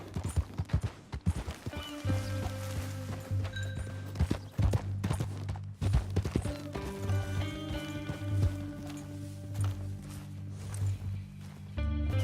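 Horse hooves clip-clopping on a trail in Red Dead Redemption 2, a steady walking rhythm of close thuds with tonal game music and ambience underneath.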